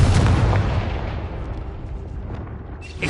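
A Confringo blasting spell in Hogwarts Legacy sets off a loud, close, booming blast that rolls out into a long noisy rumble before a sharper crack lands at the very end.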